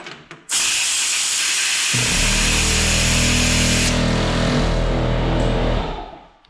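A plasma cutter blows air out in a loud, steady, close hissing rush that swells with a deeper rumbling roar partway through, then cuts off near the end, with no talking.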